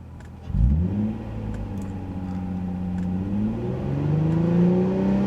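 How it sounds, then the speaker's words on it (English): Car engine revved up to about 4000 rpm, starting with a sudden throttle blip and then a steady, rising whir that climbs over several seconds, heard alone and fairly close. "So if I rev it up,"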